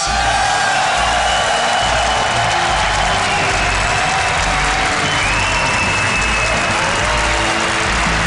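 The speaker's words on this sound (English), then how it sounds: "Give it up for Scarlett" A large esports crowd at a StarCraft II WCS Season 2 Finals quarterfinal cheers and applauds loudly and continuously, a dense roar of clapping and whoops filling the hall.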